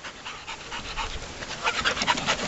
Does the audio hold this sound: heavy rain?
no